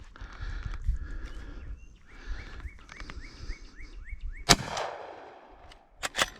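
Henry Big Boy lever-action rifle with octagon barrel fired at large steel targets outdoors: two sharp loud cracks, one followed by a ringing metallic ping, between quieter clicks and clacks of the lever cycling, with birds chirping in the background.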